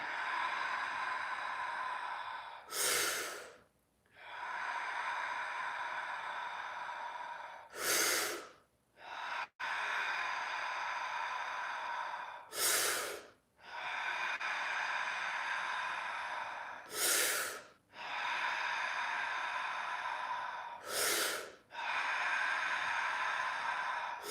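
During a breathwork session, someone breathes deeply in and out through the mouth. Long sustained airy breaths are broken by short, sharp gasping intakes about every four to five seconds, close and steady, with no talk.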